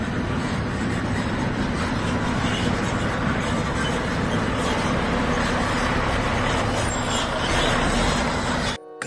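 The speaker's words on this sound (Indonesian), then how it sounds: "Wih, yang ini mobil truk molen besar." A large concrete mixer truck rumbles steadily and loudly close by, a dense continuous engine drone with faint higher hiss, holding through the whole stretch before cutting off abruptly at the end.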